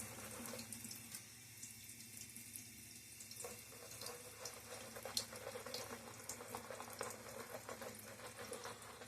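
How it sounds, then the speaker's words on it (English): Water drips and trickles from a tap onto a shaving brush during lathering with a Gillette Nacet blade, a steady faint splashing wash with small irregular spatters throughout, no voices. "Let us add a little bit more water in terms of drips here to the"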